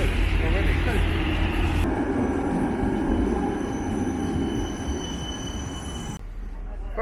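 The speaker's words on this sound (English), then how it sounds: "We're on the tram." A tram rumbling and clattering on its rails, with metallic squealing and a rising mechanical hum, then an abrupt drop as it settles; voices talk underneath.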